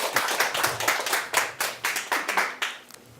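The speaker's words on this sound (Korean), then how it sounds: "그럼 이 시간 이문원 교수님 나오셔서 강연해 주실 때 여러분 박수로 맞이해 주시기 바랍니다" Applause from a lecture audience welcoming a geology professor to the stage, a few seconds of steady clapping from a modest crowd in a room, rhythmic and clear with no talking.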